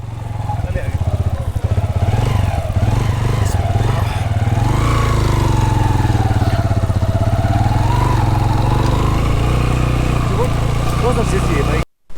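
A motorcycle engine runs loud and close for about twelve seconds on a trip through Gupis Valley in Gilgit-Baltistan, with a steady, rough throb and mild rev changes before cutting off abruptly.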